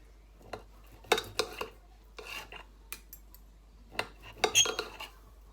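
A knife works through raw meat on a plate at a home kitchen counter. Scattered scraping strokes and sharp clinks of metal on china come in uneven bursts, close and fairly quiet.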